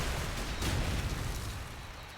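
Grenades explode in the shooter game Call of Duty 4 during a competitive match. A rumbling, noisy blast swells and then slowly fades out, at moderate loudness with no talk.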